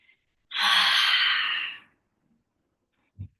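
One long, audible breath exhaled during a yoga flow, a soft airy rush lasting over a second, followed by silence and a faint short breath sound near the end.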